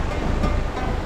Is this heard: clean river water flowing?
yes